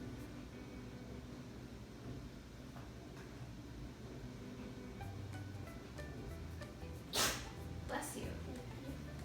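Under ongoing talk and background noise, a sharp sneeze bursts out near the end, followed by a smaller second burst.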